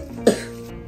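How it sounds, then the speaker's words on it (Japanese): A small boy with a cold gives a single short, chesty cough close by against a steady background hum. "咳してるから離れて"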